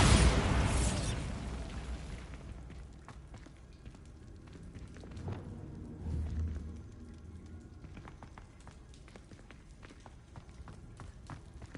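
Bombarda spell blast from Hogwarts Legacy: a loud, close burst opens the scene and booms for about a second, then a long low rumble trails off, with scattered clicks and a second softer swell midway.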